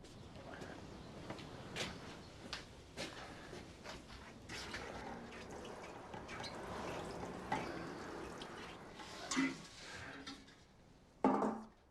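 Seed trays are watered in a greenhouse with a faint trickle and scattered drips, soft and intermittent, with a few louder splashes near the end.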